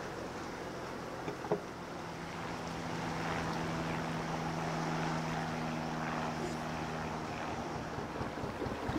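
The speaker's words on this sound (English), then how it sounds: "There was this boat coming down from the lock above" A narrowboat engine hums steadily at a low, even pitch over broad wind-like rushing as it comes down through a canal lock, a single continuous drone nearby with no talking.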